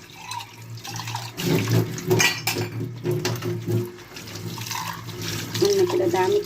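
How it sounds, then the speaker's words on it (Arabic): Running water splashes in a kitchen sink while soaped dishes and cutlery are rinsed, clinking and knocking together, with a voice speaking faintly in the background. "المواعين بتاعتي، غسلتها بالصابون"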